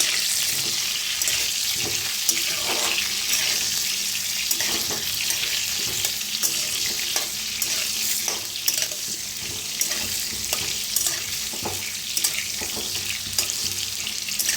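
Potatoes roasting in a pan for dum aloo, a steady close hiss and crackle of frying that runs without pause, with faint scrapes now and then.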